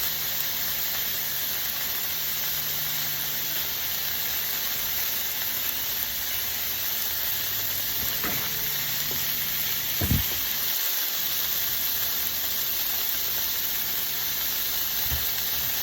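Hamburger patties searing on a griddle give off a steady, even hiss throughout, with a couple of faint clicks and knocks in the background and no talking.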